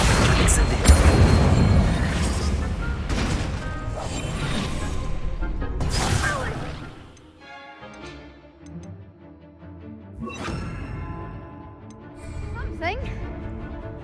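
Spell-casting effects from Hogwarts Legacy, the Accio and Incendio spells: loud whooshing blasts and booming bursts, with a fiery crackle from around six seconds on and further bursts toward the end, mixed with game music and voices.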